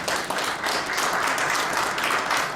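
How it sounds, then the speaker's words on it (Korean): Warm audience applause at a Korea–ASEAN forum anniversary symposium, a thick, continuous wash of clapping from a large seated crowd, steady and fairly loud throughout. "뜨거운 박수 좀 부탁드리겠습니다."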